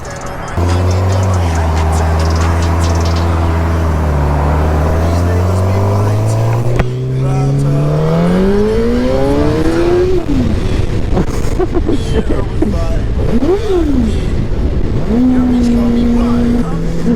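A 2012 Suzuki GSX-R600 motorcycle ridden on the road, its engine climbing through several gears in rising and falling revving sweeps, loud and close, with a voice talking briefly over it.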